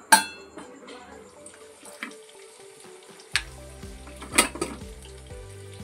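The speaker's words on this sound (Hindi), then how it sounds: "अब इसे हम 15 मिनट कम से कम अच्छे से मीडियम फ्लेम पर पकाएंगे" A potato and chickpea curry cooks in a pan over a medium gas flame, with a soft bubbling sizzle broken by a few sharp clinks and scrapes, heard up close with no voices.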